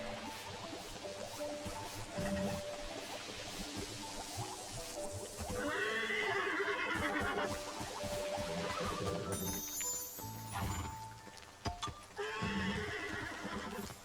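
Stallions in the game Infinity Nikki neigh and whinny in several loud, close bursts, separated by hoof clip-clops and soft game ambience, with no one talking.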